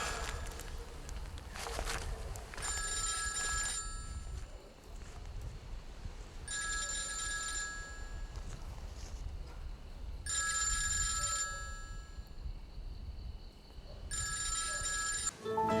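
A telephone rings in four spaced bursts of bright trilling bells over faint background noise, moderately near, with no talk.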